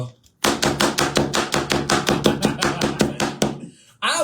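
A knife chops food on a cutting board in a rapid, steady run of about seventeen sharp, close strokes, then stops abruptly.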